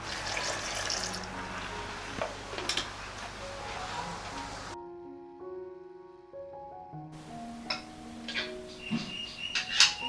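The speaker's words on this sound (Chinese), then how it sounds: "加上一些清水" Water pouring from a tap into a bowl of chickpea batter in a home kitchen, a steady close splashing stream that stops briefly, then resumes with clinks and stirring noises.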